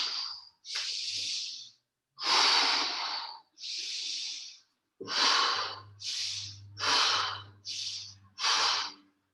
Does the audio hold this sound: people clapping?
no